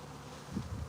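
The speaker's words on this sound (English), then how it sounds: "Like their buzzing helps tell them what they need to do." A honey bee swarm buzzing, a faint continuous hum heard alone over a brief moment.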